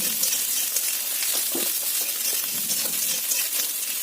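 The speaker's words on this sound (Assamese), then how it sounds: "এই কেৰাহীতে দি দিলোঁ একেলগে গোটেইখিনি। ৰঙচুৱাকৈ ভাজিব নালাগে, অকণমান ভাজি উলিয়াই দিলেই হ'ল" Onions sizzle in hot oil in a kadai for okra gravy, a steady close crackling hiss with small pops and occasional stirring scrapes, with no voices.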